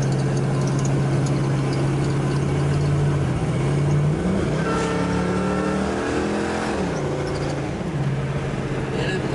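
A 1972 Ford Mustang Mach 1 V8 engine rumbles steadily, then roars as it accelerates hard, the deep exhaust note rising and falling close by.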